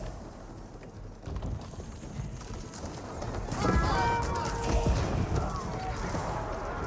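Horses clash in combat in the medieval strategy game Age of Empires 4, their hoofbeats and whinnies rising within a dense battle din that grows louder midway, with a voice talking over it.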